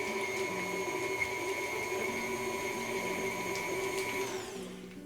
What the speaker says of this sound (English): inside my stand mixer, I have 8 ounces of softened cream cheese, 4 tablespoons of softened butter. And I'm just going to blend that